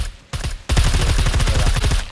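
Gunfire on a shooting range in the survival game SCUM. A short burst comes first, then after a brief gap a sustained, loud, rapid run of automatic shots continues to the end.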